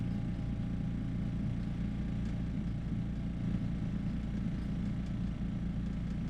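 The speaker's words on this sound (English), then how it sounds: "plug in the air compressor into the wall outlet. Allow the motor to run." A GAST beverage air compressor motor runs steadily with a low, even mechanical hum and drone, constant and close, no talk over it.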